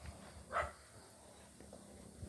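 A single short dog bark or yelp from a stray dog following people along a walk outdoors, fairly near, one brief burst over low background noise.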